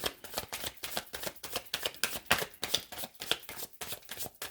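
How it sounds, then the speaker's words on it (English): Tarot cards are shuffled close up in quick, rhythmic riffling bursts, repeating steadily with no voices. "One more shuffle."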